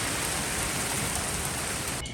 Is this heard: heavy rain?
yes